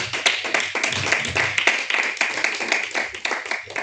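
A church congregation clapping and acclaiming, brisk close clapping from many hands with rhythmic taps and a low murmur of voices underneath.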